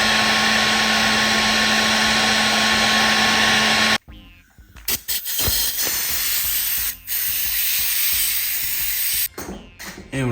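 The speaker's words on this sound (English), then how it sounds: "Same thing, I'm gonna use the heat gun." A heat gun blows a loud, steady hiss while warming a Ford Mustang headlight, cutting off abruptly partway and then returning as fainter rushing air interrupted by brief gaps.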